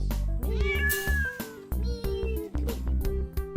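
A cat meows several times in a row, close and clear, each meow drawn out with a rising and falling pitch.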